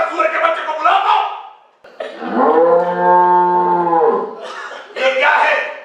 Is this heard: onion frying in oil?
no